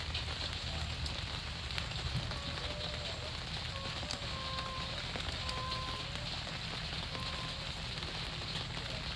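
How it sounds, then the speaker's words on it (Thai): Rain falls steadily in Maha Sarakham province, Thailand, a dense continuous patter on surfaces at an even level. Faint bird calls sound now and then behind it. "ฝนตก ครับพี่น้องฝนตกครับ"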